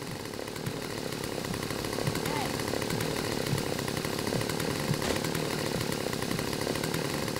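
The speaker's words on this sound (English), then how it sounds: "Turn on the fucking chainsaw." A chainsaw idles and revs continuously in the zombie survival game No More Room in Hell, a steady buzzing motor drone holding loud and close throughout.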